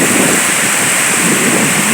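Heavy rain pours down hard onto the ground in a dense, loud, unbroken roar of hiss and splatter, steady throughout with no voices.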